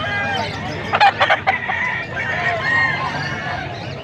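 Several roosters crowing and clucking nearby amid a noisy crowd at a rooster market, with a burst of close calls partway through.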